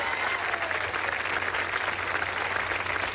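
An audience applauds for the president at a Universidades para el Bienestar event in Morelos. The clapping is dense and steady, holding an even level through the whole stretch.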